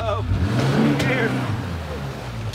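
A river rat motorboat engine runs and revs close by, a loud mid-pitched drone that rises and then settles, with people talking over it.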